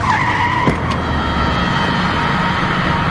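A car skids to a stop, a loud broad tire screech with engine rumble lasting the whole moment, with no talk over it.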